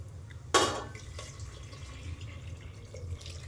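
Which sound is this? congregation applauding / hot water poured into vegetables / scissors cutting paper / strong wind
hot water poured into vegetables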